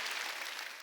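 A church congregation clapping, a dense burst of applause heard briefly and fairly faint.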